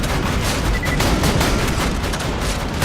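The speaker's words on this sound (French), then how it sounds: "La tourelle va se recharger." Turret firing in the Borderlands 2 video game during Tiny Tina's Assault on Dragon Keep: a dense, continuous barrage of rapid booming shots at steady loudness, no voices over it.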